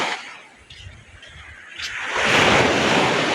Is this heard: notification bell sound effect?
no